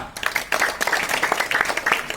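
Group of people clapping together indoors, a steady patter of many hands that stays fairly close and continuous throughout.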